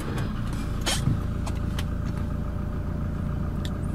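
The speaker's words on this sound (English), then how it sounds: "in order to start the engine, put your foot on the brake and then hit button start" A 2016 Toyota Hilux diesel engine starts and settles into a steady idle, a continuous low rumble with a brief starter burst near the beginning and small clicks over it.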